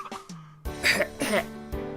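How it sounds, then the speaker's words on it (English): A man coughs and clears his throat in a few rough, drawn-out bursts, close by, with some vocal sound mixed in. "His cough lasted for a while."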